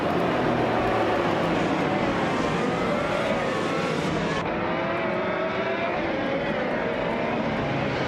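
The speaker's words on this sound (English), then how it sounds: "Their Honda IndyCar is running steadily" Honda IndyCar race cars roar around the track, a loud, continuous engine drone with shifting pitch as cars pass, the high whine cutting off partway through.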